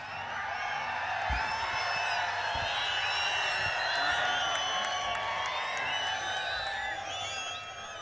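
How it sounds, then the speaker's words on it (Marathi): Rally crowd whistling and clapping continuously for several seconds, a dense wash of shrill overlapping whistles over steady applause, with a few low thumps. "ह्या शिट्या आणि टाळ्या"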